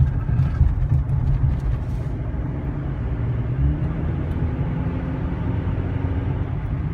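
A 2016 GMC Canyon diesel pickup climbs a sweeping cloverleaf exit ramp, its engine and road noise making a steady low rumble from inside the cab with no voices.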